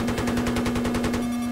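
Rapid automatic gunfire from the video game Battlefield 3, a steady burst of close, loud rounds rattling evenly for the full stretch with no pauses.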